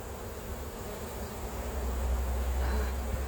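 Honey bees buzzing around an opened hive, a dense continuous hum of many insects close by, with no voices.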